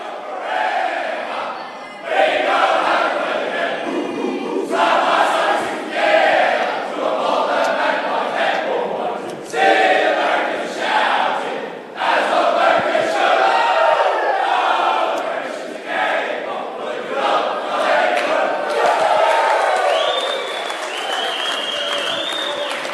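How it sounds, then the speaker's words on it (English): Collingwood players gathered in a circle in the rooms at the MCG belt out their club song after a four-point win over arch rival Carlton, a loud, sustained chorus of massed voices with cheering bursts throughout. "enjoying belting out their song after beating their arch rival"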